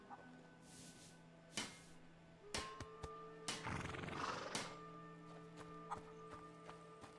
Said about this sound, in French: Bon, au moins on a des chevaux, on peut les caresser.